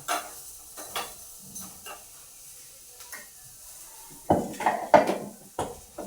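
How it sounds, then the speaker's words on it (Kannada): Unpeeled vegetables frying in a pan, with soft sizzling beneath scattered stirring scrapes and clinks of a utensil against cookware, growing louder and busier toward the end; no one speaks. "ಹಂಗೆ ಕೆಚ್ಬಿಟ್ಟು ಫ್ರೈ ಮಾಡ್ತೀನಿ"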